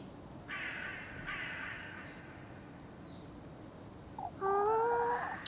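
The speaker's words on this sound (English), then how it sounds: "Oh, there's so many crows." Several crows caw in a few drawn-out, raspy calls from a short distance, ending in a louder, closer burst of cawing over faint background noise.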